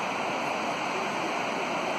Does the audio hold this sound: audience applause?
no